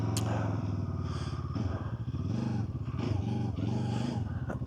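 A QJMotor SRT450RX Rally 450 cc motorcycle pulls away, its engine loud and close, rising and falling in pitch through revs and gear changes with a steady throbbing rumble throughout.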